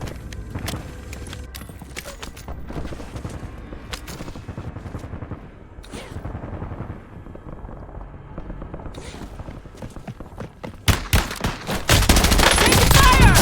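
MPC-25 gunfire in the video game Warzone comes as bursts of rapid shots over crackling in-game noise, building to a dense, loud volley near the end, with no voices.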